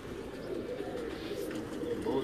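Old pigeons coo softly on a rooftop in Gujrat, a low, murmuring steady burble, faint and close, with no pauses over a couple of seconds.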